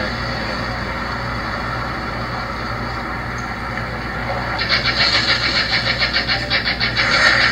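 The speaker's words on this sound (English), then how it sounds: "She drove off fast, too. Look at Demi. Demi is driving off." A car pulls away fast amid a paparazzi crowd: a steady engine drone swells into a louder, pulsing roar as it drives off, with no clear speech.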